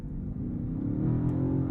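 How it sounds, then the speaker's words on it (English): The gas engine of a BMW XM hybrid SUV starts up while the SUV is driving, giving a steady low rumble that builds slightly as revs rise, heard from inside the cabin with no talking. "Then the gas engine comes on, and it does make some noise."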